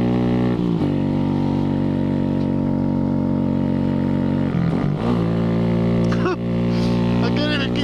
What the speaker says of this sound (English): Damn, my bike is so much louder up here.